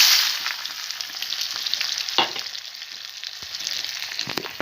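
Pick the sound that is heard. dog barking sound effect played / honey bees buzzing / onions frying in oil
onions frying in oil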